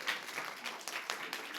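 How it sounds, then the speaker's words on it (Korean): Church congregation applauding one another at a Wednesday worship service, a soft, steady patter of many hands clapping at a distance, continuous through the short stretch. "이 자리에 나온 서로를 향해서 우리 격려의 박수를 보내겠습니다"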